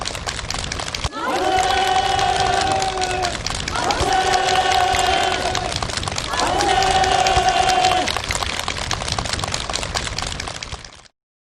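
A crowd applauds and cheers at a ceremony presenting housing use permits for a new village, dense steady clapping running for about ten seconds beneath loud, sustained tonal music that swells in three long phrases.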